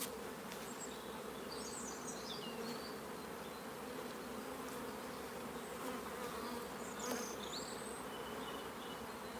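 Honey bees buzz continuously during a nuc hive transfer, a close, steady swarm drone with individual bees whining past, heard alone outdoors with faint birdsong behind.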